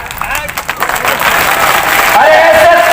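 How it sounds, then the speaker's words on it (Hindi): An open-air political rally crowd in Mandhata, Khandwa claps, the applause swelling from scattered claps into a dense, loud roar that carries to the end, with crowd noise underneath. "अरे ये तालियां क्या"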